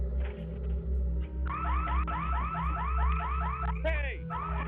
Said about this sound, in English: Immediately, the security alarms went off.